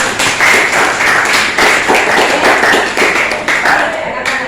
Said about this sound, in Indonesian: untuk semangat kita tepuk tangan dulu